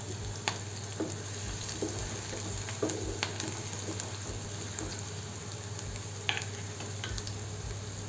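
Gavar (cluster bean) vegetables frying in a pan with garlic paste and crushed peanuts, a steady low sizzle with soft scraping stir strokes repeating every second or so, close and fairly quiet, no voices.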